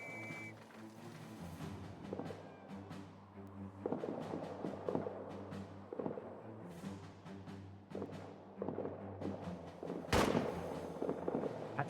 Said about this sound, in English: now stay here and watch the artillery fly